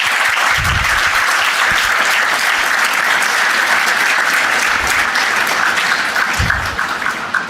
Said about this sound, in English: can we have a round of applause for our Honorable Chairman, sir?